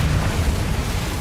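The Confringo fire spell in Hogwarts Legacy bursts as a loud, close, deep blast, a short rumbling explosion with a heavy low boom that fills the moment.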